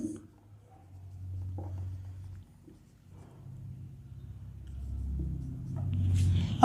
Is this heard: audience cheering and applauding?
no